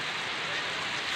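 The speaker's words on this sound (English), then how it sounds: "Oh, it's raining again." Rain falls in a steady, soft hiss at a backyard barbecue, faint and continuous for about a second, with no talking.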